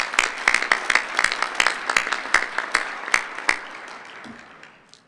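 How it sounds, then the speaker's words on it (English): A conference audience claps in a round of applause honouring a colleague's decade of service, sharp individual claps rising into a steady patter before thinning out and fading. "I'd like to give him a round of applause in any event for his decade of service"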